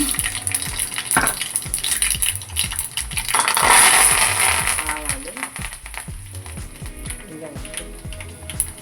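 Mustard seeds, dried red chillies and urad dal fry in hot groundnut oil for a tomato chutney. Dense, close crackling and sharp pops run steadily throughout, with brief louder bursts of sputtering.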